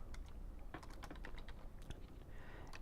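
Quiet keystrokes on a computer keyboard, an irregular run of sharp clicks and taps coming in quick bursts with short pauses, close up and with no voices.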